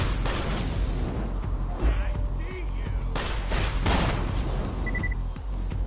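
Repeated gunshots in the video game Borderlands 2, sharp cracks scattered through a dense, busy battle soundscape, with occasional voices mixed in.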